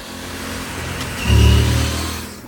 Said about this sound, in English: when you downshift, it makes a nice noise.